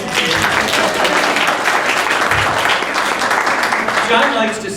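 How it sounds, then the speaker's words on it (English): Audience applause at a presentation in Desert Hot Springs, a steady dense clapping from a roomful of people sustained throughout at close, even loudness. "Let's clap."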